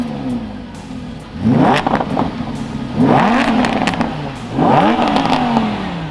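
Mid-engine supercar (Ferrari, Lamborghini or Audi R8 V10) revs and accelerates in three loud surges, each rising engine pitch climbing sharply before dropping back, close and unaccompanied by talk.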